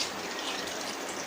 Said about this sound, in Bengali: 1 কাপ মতো পানি দিয়ে দিলাম